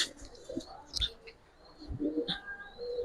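Giribaz pigeons cooing softly up close, a few low throaty coos with scattered chirps and faint rustling, quiet and intermittent.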